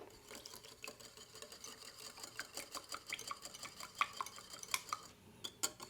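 Egg yolk, lemon juice and salt are stirred together in a bowl, making soft irregular clinks and scrapes, quiet and close, with sharper taps near the end.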